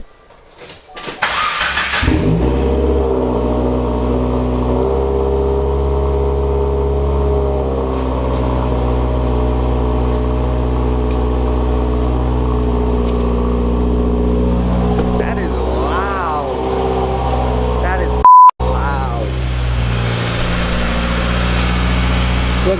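A 2019 Subaru WRX with a new AWE Track Edition cat-back exhaust fires up for its first start and settles into a loud, close, deep idle with some revving, with brief talk partway through.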